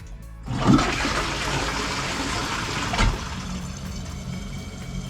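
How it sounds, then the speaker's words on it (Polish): Geberit concealed toilet cistern flushing close by, a strong rush of water starting after a brief quiet moment and running steadily to the end with a small surge near the middle. "możemy to już zrobić, sprawdzić jak leci woda"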